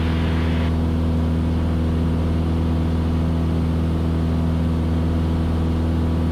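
A Cessna 172S piston engine held at high RPM during a climb, a loud, steady droning hum with strong even harmonics, heard from inside the cockpit throughout.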